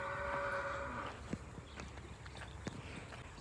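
Buffaloes on a farm give a drawn-out low call at the start, followed by scattered soft thuds and hoof-like knocks against steady outdoor background noise.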